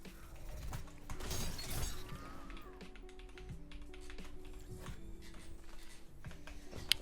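Destiny 2 Shatter Dive impact, a bright crystalline shattering burst early on, followed by scattered icy tinkling cracks and taps over a humming game background; quiet overall with no speech.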